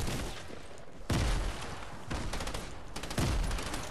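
Gunfire in the video game Fortnite: two heavy blasts, one about a second in and another near three seconds, each with a booming low thump and a long noisy tail over busy game ambience.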